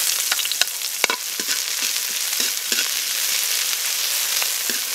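Garlic and onion fry in a pan for Chinese-style pork belly, giving a steady close sizzle with occasional stirring clicks and scrapes.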